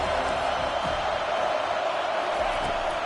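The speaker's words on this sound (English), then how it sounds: "this crowd trying to help keep them there." Stadium crowd noise from College Football 25, a steady, loud roar of many voices filling the whole stretch with no breaks, as the home fans try to keep the opposing offense pinned deep in its own end.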